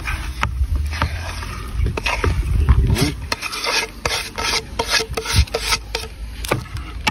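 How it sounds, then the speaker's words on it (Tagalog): Spoon scraping and stirring through sliced beef tongue kilawin with the chopped ingredients, a rough rasping rub in uneven strokes close by, with no talking. "Haluin lang na natin mga pare ko."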